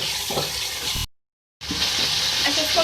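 Beef karahi masala with cumin and coriander powder is stirred in a sizzling pan. The frying hiss runs steadily, cuts out completely for a moment, then returns just as loud.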